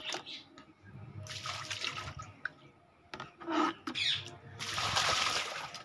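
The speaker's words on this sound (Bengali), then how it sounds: "এইভাবে জোরে জোরে ভেতরের দিকে জল দিলে কী হবে, জলে ঠেলা হয়ে ভেতরের দিককার নোংরা সমস্ত বাইরে বেরিয়ে চলে আসবে" Forceful water spray hosing down a rooftop garden in the rainy season, bursts of hissing, splashing water that start and stop irregularly, growing louder near the end, with some background voices.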